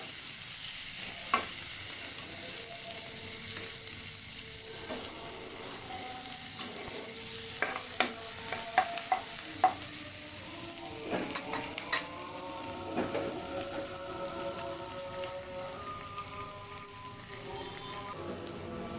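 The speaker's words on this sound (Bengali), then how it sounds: "পেঁয়াজটা অত কড়া করে ভাজবো না" Onion frying in a pan for an egg chop, a steady close sizzle with repeated scraping stirs of a spatula throughout, no talking.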